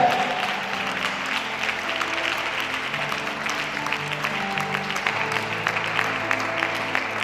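A congregation in church applauding, a steady, continuous wash of many hands clapping at moderate distance, with faint voices mixed beneath.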